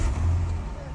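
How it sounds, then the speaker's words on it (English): A 2010 Chrysler 300 engine starting up, a brief low rumbling crank and idle heard close, cut off after less than a second. "All right, turn the car on"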